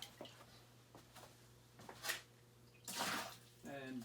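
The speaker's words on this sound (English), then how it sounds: "put a splash of water in, swirl it around" A splash of water sloshed and swirled inside a water filtration system's filter container, a few soft wet swishes and gurgles, faint and close, with a voice speaking between them.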